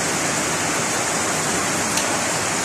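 Floodwater rushing along a street after heavy rain, a dense, constant roar of churning water with no pauses.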